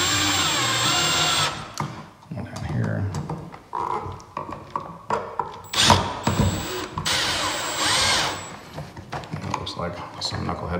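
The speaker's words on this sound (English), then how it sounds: "I usually use a drill at this point because I'm lazy" A power drill driving screws whirs in short bursts and longer runs, close by, with a person talking between and over the driving.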